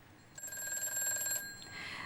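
A telephone rings for a call-in consultation on a Korean stock trading broadcast: a single electronic trill of about one second, clear but moderately quiet, with no talking over it.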